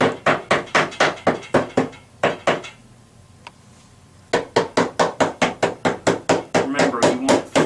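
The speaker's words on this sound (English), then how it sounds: "you'll need the hammer to just tap it in" A hammer tapping wooden Forevermark drawer parts flush during cabinet drawer assembly: rapid, evenly spaced sharp knocks in bursts, a brief pause with a faint click, then another long run of steady close taps.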